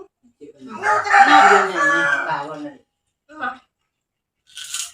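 A rooster crows once, loud and close, followed by a short cluck and a brief higher call.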